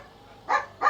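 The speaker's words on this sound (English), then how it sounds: "my dogs are going crazy" Dogs give two short barks in quick succession, moderately loud and a little distant, over quiet background.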